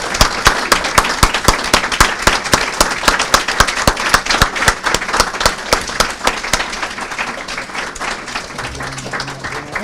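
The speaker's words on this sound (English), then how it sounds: "we can give them one last round of applause" Graduates at a 2015 ceremony receive a final round of applause: dense, sustained clapping from a large audience, loud and steady across the whole stretch, tapering slightly near the end.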